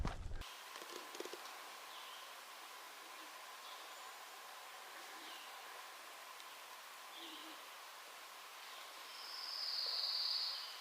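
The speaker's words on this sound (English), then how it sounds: "That's the pine warbler right there." A pine warbler in a Vermont forest along the Appalachian Trail gives a single high, rapid trill near the end, fairly faint against a quiet, hushed woodland background.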